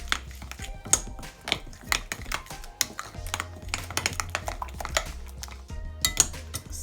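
Spoon clinking and scraping in a bowl while tandoori chicken spice paste is mixed, a quick irregular series of light taps close by with no talk.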